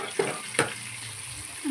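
Chutney and turmeric roast in oil in a pan for Kolhapur-style egg curry. A steady, close sizzle hisses throughout, broken by a couple of short stirring scrapes.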